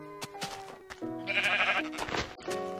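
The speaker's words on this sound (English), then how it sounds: "Hey, I found another sheep." Sheep bleating in the Minecraft video game, several short tonal bleats in a row over background game sounds and music, fairly close and clear.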